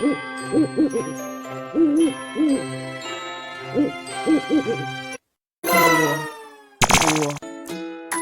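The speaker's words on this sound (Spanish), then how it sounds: "Búho." A cartoon owl in a children's animal-sounds animation hoots in repeated paired calls, loud and close, followed by bright chiming jingle effects and short bursts of sound.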